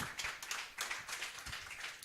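A church congregation claps its hands in rhythmic, fairly quick beats, heard faintly and at some distance.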